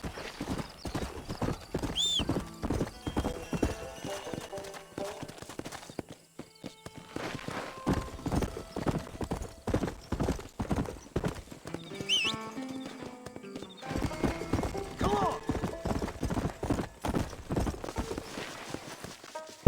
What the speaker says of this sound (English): All right, let's get on the horse.